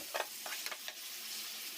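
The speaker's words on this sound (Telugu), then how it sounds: "మళ్ళీ అదే ప్యాన్లో ఒక టేబుల్ స్పూన్ ఆయిల్ వేసుకుని టమాటా ముక్కలు వేసుకోవాలి" Tomato pieces dropped into a tablespoon of oil in a pan while making brinjal-tomato chutney give a soft, steady sizzle with a few brief stirring scrapes near the start, close and fairly quiet.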